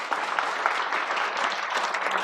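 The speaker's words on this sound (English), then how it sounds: "Please, round of applause." Guests at a car club speed championship awards evening give a round of applause, a continuous, even wash of many hands clapping heard alone and slightly distant.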